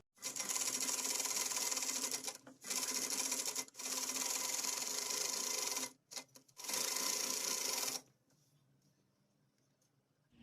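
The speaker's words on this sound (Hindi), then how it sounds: "इसे आधे इंच के फासले पे चारों साइड से सिलाई लगा लेंगे" A sewing machine stitches the layered panels of an umbrella frock, running in several loud, steady bursts separated by short pauses, then stopping and leaving near silence at the end.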